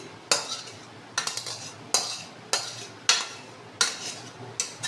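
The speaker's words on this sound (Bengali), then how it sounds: "এটাকে আমি একটা পাত্রের মধ্যে ঢেলে রাখবো" Cooked katla fish curry made with mustard, poppy seed and sour curd being transferred into a bowl, with seven sharp metallic scrapes and clinks of a spoon against the pan at a steady pace, close and fairly loud.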